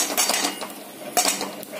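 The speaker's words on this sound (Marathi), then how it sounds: "मी कढई गरम करण्यासाठी ठेवलेली आहे, त्यामध्ये हे ड्रायफ्रूट पांढरे तीळ थोडेसे भाजून घेणार आहे" A metal spatula stirs dry fruit and white sesame roasting in a hot kadhai, giving a few sharp clinks and scrapes against the pan in quick, uneven bursts.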